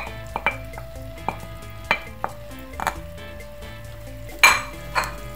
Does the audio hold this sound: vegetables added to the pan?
yes